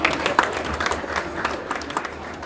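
An audience at a talent awards ceremony in Cameroon claps for a winner, scattered and moderately loud applause with distinct individual claps and some crowd murmur.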